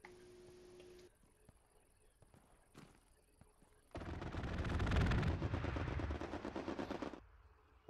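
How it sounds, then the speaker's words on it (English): Strafing-run gunfire in the World War II shooter Hell Let Loose on the Kursk map: after quiet scattered sounds, a loud sustained burst of rapid rattling fire swells for several seconds and then cuts off. "They called in a strafing run on just me."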